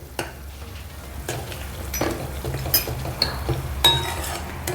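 Ginger and garlic paste fries in a pan for Punjabi brown gravy, a low sizzle broken by spoon clinks and scrapes against the metal at irregular intervals.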